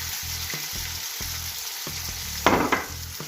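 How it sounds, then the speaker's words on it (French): Basque-style chicken frying in a pan while a spoon stirs it, giving rhythmic scraping strokes over a steady sizzle, with a louder clatter near the end. "je vais remuer pour pas que ça colle"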